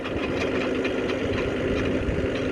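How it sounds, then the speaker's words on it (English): A tractor engine running steadily nearby in a field, a loud continuous rumble with no talk. "shut your tractor down for a second."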